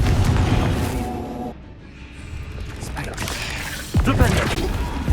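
Fiery Confringo spell blasts in Hogwarts Legacy combat boom loudly, a heavy crash early, a quieter lull, then another sharp impact and rumble toward the end, with voices under the action.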